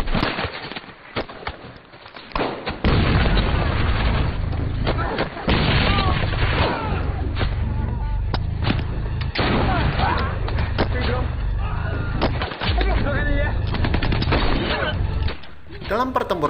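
Battle scene from the film Black Crab, with loud booming explosions and bursts of gunfire that run almost continuously, dense and close, under a layer of music or voices.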